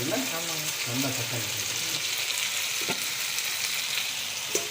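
Broadband sizzling and frying of marinated chicken being dry roasted in a pan, steady and close, with some stirring and a voice talking briefly at the start.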